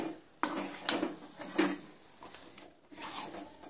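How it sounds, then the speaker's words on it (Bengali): Halwa is stirred in a pan as it dries out, making a few scattered scraping strokes and soft clinks over a faint sizzle, with quiet gaps between the strokes. "নুন দিয়ে আবারও আমি সুন্দরভাবে নেড়ে চেড়ে নিচ্ছি"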